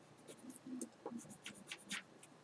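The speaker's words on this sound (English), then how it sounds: "I'm using colored pencil just because it gives off more of that fur vibe" Coloured pencil scratching fur strokes onto paper, a run of quick, soft, close strokes in an irregular rhythm, quiet and alone.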